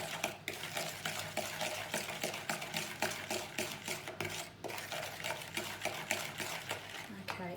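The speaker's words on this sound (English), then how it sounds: "I'm just going to mix that together" Caster sugar being mixed into melted butter in a bowl, with a steady run of spoon scrapes and soft clinks against the bowl, close and continuous throughout.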